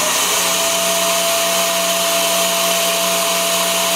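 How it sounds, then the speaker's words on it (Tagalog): Vacuum cleaner running on a heavy duty 30 m extension cord, a loud, steady motor whine with a constant tonal hum and no pauses. "Ito yung ating vacuum."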